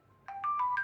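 Four quick, bright synthetic notes step upward in a short chime: the Alarm 4 tone of a Nokia Lumia 635 smartphone, clear and close over faint background noise.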